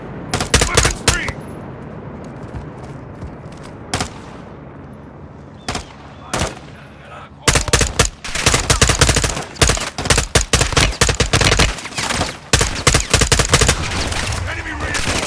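Call of Duty: Modern Warfare II gunfire cracks out loud and close: first scattered single shots, then dense rapid bursts of automatic fire, with shouted voices in the game now and then.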